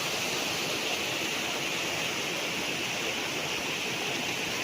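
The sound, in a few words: natural spring water flowing on a farm lot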